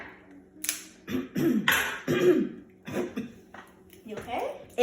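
A person coughs a few times during a tasting of a sour dish made with fresh lemon, the coughs and throat sounds close by and mixed with nearby talking.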